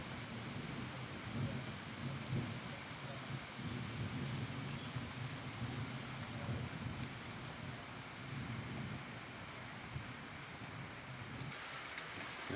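Faint, steady rainfall with low, rolling thunder rumbling in the distance, no voices present.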